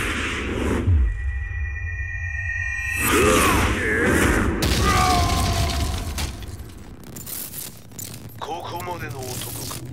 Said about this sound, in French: Explosion confirmed at the Mishima Dojo.